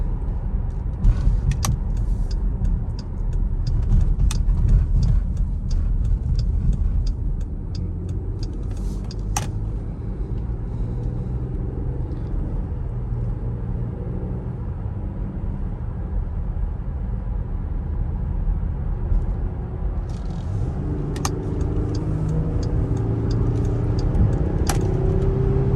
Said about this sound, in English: I'm not even pushing the gas down that hard, and we've got great acceleration right there